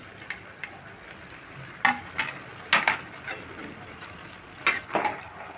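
Stirring fried potatoes in a pan for a Bengali cabbage curry with katla fish heads: intermittent scraping clinks of a spatula against the pan, a handful of distinct strokes over a faint sizzle.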